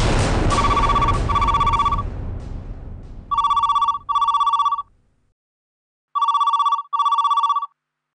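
A telephone rings in repeated double bursts of electronic trilling, loud and close. The first rings blur into a wash of background noise, and two clean pairs follow over silence.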